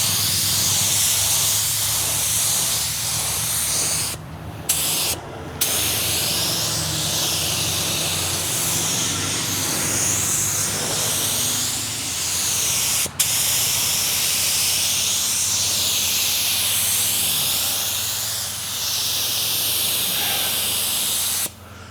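A Porphis PRD817 spray gun lays base coat onto a car outdoors in the sun, a loud steady hiss of atomized paint running almost continuously, broken by a few brief trigger releases.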